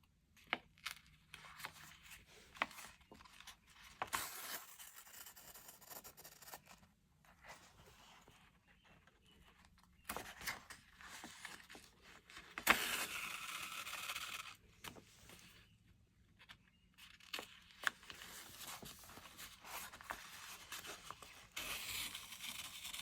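Needle and thread are drawn through a junk journal cover in a running stitch, making soft, faint rasping pulls and light rustles that come in repeated bursts in a quiet room.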